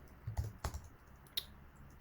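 Keys on a computer keyboard tap out a short, uneven run of clicks while Python code is being written, close and fairly quiet with no voice over them.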